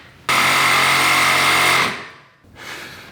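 Metal axle of a cheap auction side-by-side being cut off, a loud rapid buzzing cut lasting over a second, then a fainter second burst after a short pause.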